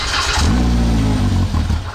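The engine of a wrecked UTV, a Polaris RZR X3 or Yamaha YXZ, cranks, catches and revs loudly up close in a short rising burst, with no talk over it.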